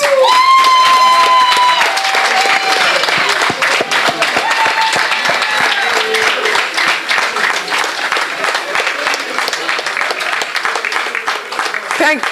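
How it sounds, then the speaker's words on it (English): Board meeting audience breaking into a big round of applause for a group of young men, with sustained, dense clapping throughout, mixed with cheering and excited voices. "let us give them a big round of applause"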